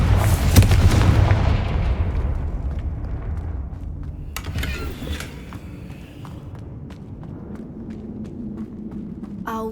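Confringo fire spell blasts in Hogwarts Legacy: a loud booming burst opens, rumbles and fades over several seconds, followed by footsteps and scattered smaller impacts.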